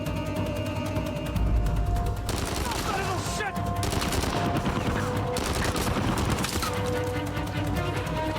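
Dense bursts of rapid gunfire fill a firefight in the video game Uncharted 4: A Thief's End, with rattling volleys and single shots layered over game noise and occasional talk.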